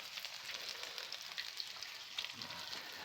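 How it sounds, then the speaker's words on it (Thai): Ginger being stir-fried in a pan until slightly golden, a soft continuous sizzle and crackle heard close but quietly, with no talking. "ตอนนี้เขาคั่วขิงเนาะคั่วขิงมันเหลืองนิดนึง"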